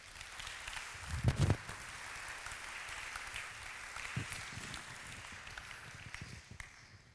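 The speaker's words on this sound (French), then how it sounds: "Acclamons pour la parole de Dieu." A church congregation claps briefly and fairly quietly, with a short burst of louder handclaps near the start that fades into a low, soft patter.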